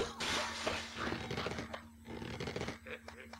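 Glass shatters in the video game Eggs vs. Bacon, a dense crashing burst followed by scattered tinkling debris, loud and close, with a voice talking over it.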